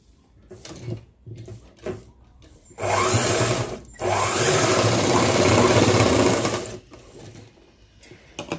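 A sewing machine joins a pocket onto cloth, first in a few short taps, then in a sustained run of several seconds, briefly paused and resumed, close and fairly loud.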